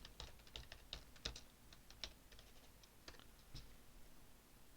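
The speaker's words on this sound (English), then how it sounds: "let me just type this in" Rapid keystrokes on a computer keyboard, a quiet, irregular run of sharp clicks with short pauses, close up and alone.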